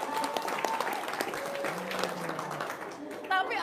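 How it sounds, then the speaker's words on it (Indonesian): Audience applause during an Indonesian talk, a sustained mid-level clapping from a crowd with voices mixed in, plus a brief tonal sound near the end. "Tepuk tangan dong."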